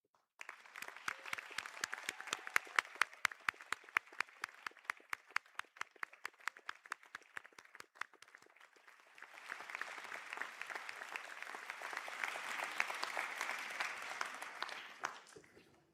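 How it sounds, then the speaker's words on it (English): Graduates at a college conferring ceremony receive a round of applause from the hall: sharp, distinct handclaps at first, building into a fuller, denser wave of clapping that carries on for over ten seconds, heard from a distance. "stand for a round of applause,"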